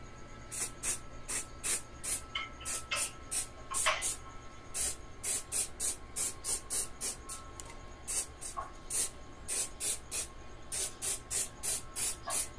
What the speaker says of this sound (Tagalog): oras na para lagyan ng adhesive spray